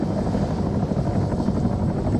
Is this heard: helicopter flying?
yes